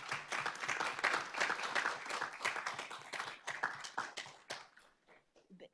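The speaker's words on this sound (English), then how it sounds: "give them a round of applause for all of the hard work that they did" Applause at a school board of trustees meeting, a fairly small group clapping at close range, brisk and uneven, then thinning out into a few last scattered claps.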